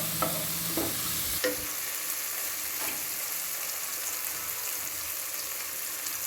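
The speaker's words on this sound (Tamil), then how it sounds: "தக்காளி நல்லா வதங்கிடுது" Tomatoes fry with ginger garlic paste in a pan for chicken kuzhambu, a soft steady sizzle with a few scraping stirs near the start, quiet and close.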